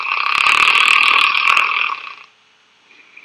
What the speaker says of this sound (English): Breath by breath, the frequency of the upper airway vibration increases along with the loudness of the snoring.